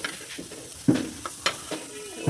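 Sliced onion and garlic are stirred and tossed in a dry pan without oil. Several short utensil scrapes and shuffles come close together, with a faint sizzle between them.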